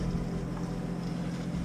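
Sailboat motoring under engine power while crossing the Ionian Sea toward Paxos, Greece, giving a steady, close, low engine drone with water noise and no talk.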